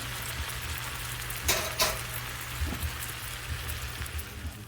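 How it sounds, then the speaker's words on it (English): Country style hash browns fry in leftover sausage grease with a constant soft sizzle, broken by a couple of brief clattering scrapes and faint taps, no talking. "take country style hash browns, put them in this remaining grease, let that fry up real nice"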